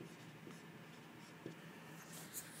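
Pen scratches across paper while notes are written during a college lecture on NMR spectra, faint and close, with soft intermittent strokes and a couple of small taps over quiet room noise.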